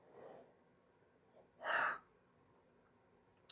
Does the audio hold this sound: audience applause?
no